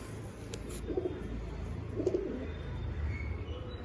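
Pigeons of the Andhra line, including a fulshira cock, give low, soft coos in two faint bursts over a steady background murmur, with no talking.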